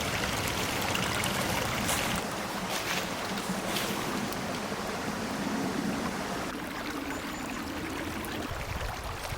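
A stream runs through a ravine where water celery grows, its continuous gurgling flow steady and close, with a few brief louder splashes.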